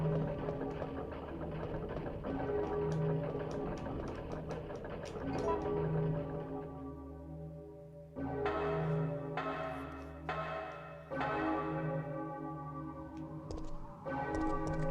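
Tolling bell in the Resident Evil 3 video game, sustained ringing tones struck several times with long decays, over a low droning game soundtrack.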